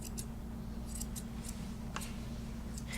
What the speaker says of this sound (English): Use your curved scissors